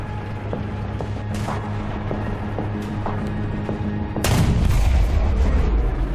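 A tank cannon fires once in War Thunder during a match involving a KV-85: a loud, close blast with rumbling tail breaks over a steady engine drone and faint periodic ticking.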